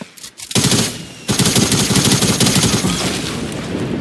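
Gunfire in Fortnite during the Chapter 1 finale: after a brief lull, loud, sustained bursts of rapid automatic fire rattle almost continuously, close and dense, with no speech over them.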